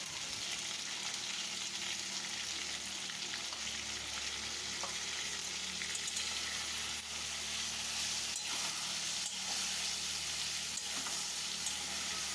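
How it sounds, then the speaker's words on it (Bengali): Ginger paste and turmeric powder fry hard in hot oil for a cabbage curry. A loud, dense sizzle runs steadily throughout with no pauses, and nobody speaks. "তারপরে ভালো করে কষিয়ে নেব আদা বাটাটাকে।"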